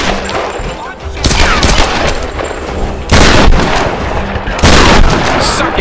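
Trench gun shotgun blasts in Tomb Raider: Definitive Edition, a few loud, heavy booming shots spaced apart amid ongoing combat noise, each one a sharp bang with a long rumbling tail.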